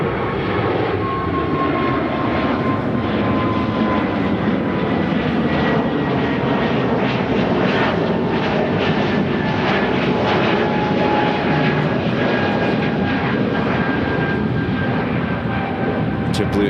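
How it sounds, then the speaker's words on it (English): A JetBlue Airbus A220 jet at Chicago O'Hare gives a loud, sustained engine roar with whining tones drifting across it, and a voice talks over the noise. "JetBlue Airbus A223."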